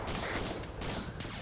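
Sustained suppressive gunfire in Arma 3, a dense, continuous crackle of rapid shots at steady loudness with no clear gaps between bursts.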